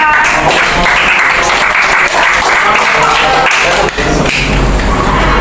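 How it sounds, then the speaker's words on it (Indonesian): A room full of people applauding a group loudly and steadily, dense clapping that continues without a break. "boleh kita kasih tepuk tangan untuk kelompok 3"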